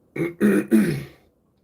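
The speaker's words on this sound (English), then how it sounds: "sorry for clearing my throat" Three quick, throaty clearing sounds in a row, close and fairly loud, each a short rough burst.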